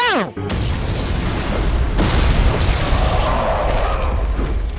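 A large explosion from a Suicide Squad movie scene bursts with a sudden boom, then a long roaring rumble and crackling debris that fills the rest of the sound.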